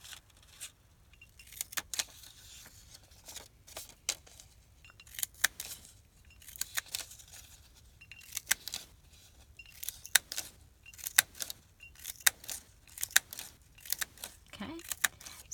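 Paper flowers being cut out with scissors for a junk journal, heard as faint, scattered snips and crisp rustles that repeat irregularly under soft, quiet room noise.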